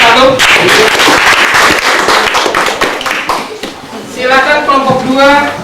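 Workshop participants at an environmental education training session in Tasik Payawan, Central Kalimantan, clap for a group in steady, dense applause, with a voice speaking over it toward the end.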